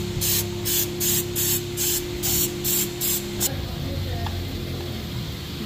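Short bursts of aerosol degreaser hiss onto a Toyota Innova D4D diesel engine's EGR valve, about eight quick sprays in a steady rhythm, close and loud, then a quiet shop with an engine hum beneath.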